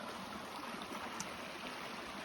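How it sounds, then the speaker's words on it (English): Dark, tannin-stained stream flowing on a hiking trail: a steady, soft wash of running water, fairly faint and continuous, with no voices. "come upon a lovely stream. You can see the water is kind of dark. It's got tannins in it"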